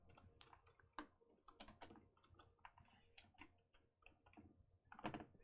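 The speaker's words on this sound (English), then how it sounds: "as I'm typing, it's hard to type for me to type and talk at the same time" Irregular bursts of computer keyboard typing, quiet and close, with clusters of key clicks and short pauses between them.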